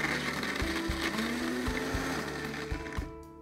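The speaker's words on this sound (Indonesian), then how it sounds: "Saya akan haluskan dengan blender kecil seperti ini." A small electric blender grinds garlic and candlenuts with a little oil, whirring loudly and close with a steady motor tone, knocking in short pulses as the pieces bounce, then winding down at the end.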